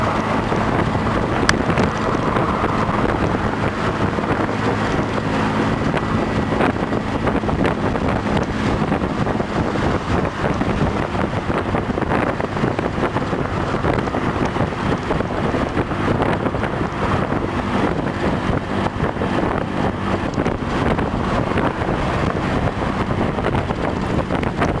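A stiff crosswind buffets a Honda PCX 125 scooter crossing the Verrazano Narrows Bridge at speed, a loud, unbroken roar of wind rumble against the microphone mixed with road and engine noise, with no voice.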